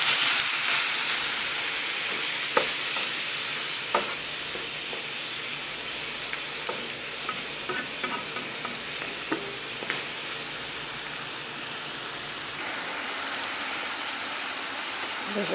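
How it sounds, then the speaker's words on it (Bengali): Dried loitta fish curry with eggplant and potato sizzling in a pan after water is added, with a steady frying hiss and scattered stirring clicks and scrapes throughout. "শুটকিগুলো একটু ভাজা ভাজা হয়ে গেছে। এখন আমি একটু পানি দিয়ে দেব"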